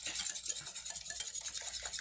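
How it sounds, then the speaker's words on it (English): Fry bread dough gets worked together by hand in a bowl, giving a quiet, continuous rhythmic scraping and rubbing with soft repeated strokes and no voices. "it's a lot of hard work trying to mix this together"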